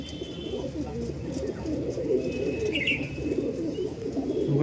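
Owl face Madras pigeons coo in a soft, continuous, layered murmur close by, with a faint high chirp partway through.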